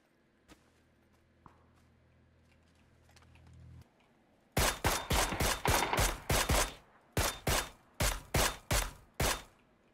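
Rapid bursts of gunshots in a shooter video game, a dozen loud sharp reports in quick succession after a quieter stretch of low background rumble and faint clicks.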